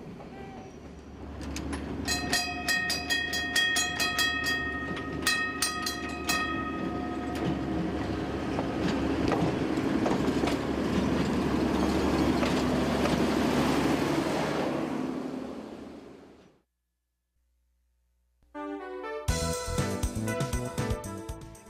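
Platte Valley Trolley in Denver running, a steady rumbling rail sound with ringing tonal lines like wheel squeal or a bell, loud and continuous before cutting to silence, then a brief burst of other sound.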